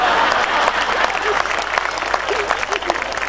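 Audience applause at a Hindi kavi sammelan poetry gathering, a dense steady clapping from a large crowd throughout, with a voice rising faintly above it.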